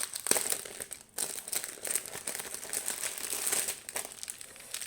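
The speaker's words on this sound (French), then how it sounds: "on va ouvrir le premier paquet" A plastic packet of diamond painting rhinestones is torn open and handled, giving close, fairly quiet crinkling and crackling in irregular bursts with one brief pause.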